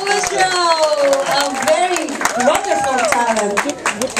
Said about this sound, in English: one round of applause for Selina